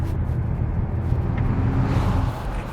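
A Mercedes-AMG C63 S accelerating out of a corner, its broad engine and road roar steady and fairly loud throughout, heard from on board with no talking.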